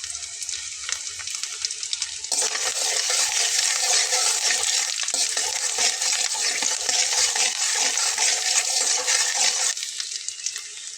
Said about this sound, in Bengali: আমি এখানে দিয়ে নেব রসুন কুচি করে নেওয়া।